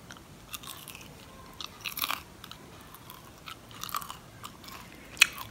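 Close-up chewing of crunchy fried bacon: repeated crisp crunches and bites at an uneven pace, with one sharp crack near the end and no talking.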